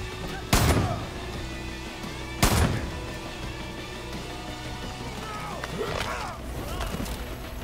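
Two loud, sharp shotgun blasts from a first-person shooter game, Far Cry 5, spaced about two seconds apart over a steady bed of game ambience and music.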